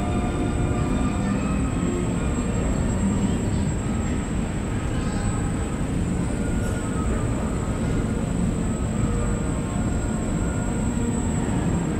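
A New York train rumbles steadily and loudly from inside, a continuous low roar of wheels and car noise with a faint high whine above it.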